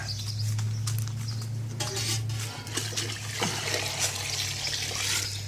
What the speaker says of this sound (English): It'll catch the wort, and this goes back in the pot.